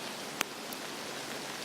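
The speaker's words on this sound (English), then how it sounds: "now that it's raining" Rain falling outdoors as a steady, soft broadband hiss with a single sharp tap of a drop, faint and continuous with no voices.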